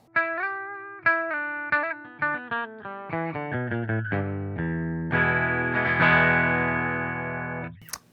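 A clean electric guitar with a Seymour Duncan Little '59 humbucker picks single notes and arpeggios, building to a ringing strummed chord that sustains before fading.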